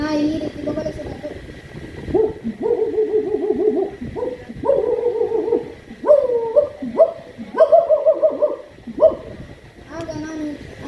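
A child mimics a neighbour's dog barking, giving a series of sharp, loud woofs and yips in an uneven rhythm, delivered close to the mic during a school talent competition.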